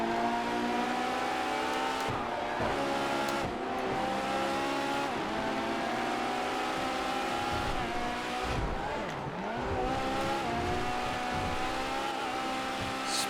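Fast race cars roar around a track in GTA FiveM, a close engine revving and shifting with rising and falling pitch, brief tyre squeals and cars passing, loud and steady throughout.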